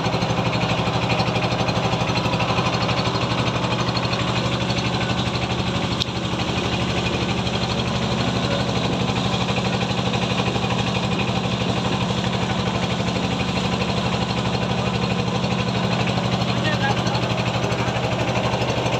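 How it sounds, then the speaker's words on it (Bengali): A trawler boat's engine on the Meghna River, a loud continuous diesel drone and rattle running steadily throughout with people talking over it. "পাশ দিয়ে দেখেন আরও একটি ট্রলার আমাদের পাশ দিয়ে চলে যাচ্ছে"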